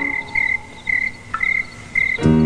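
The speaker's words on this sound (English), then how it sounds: "Crickets chirping," Crickets chirp in repeated short bursts through a quiet evening scene in a Sesame Street bedtime segment, a steady rhythmic trill with a brief low thump near the end; no one speaks.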